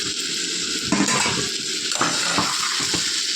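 Tomatoes fry in a pan with a loud continuous sizzle, repeatedly punctuated by stirring scrapes and spatula clatter against the metal.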